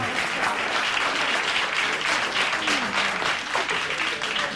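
Sustained, steady applause from a large audience at a speech, a dense, even roar of clapping throughout with a faint voice briefly underneath.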